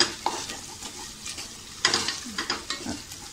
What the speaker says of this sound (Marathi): आपल्याला टोमॅटो कांद्यामध्ये एकदम मऊ करायचं आहे, मऊ होईपर्यंत परतूया।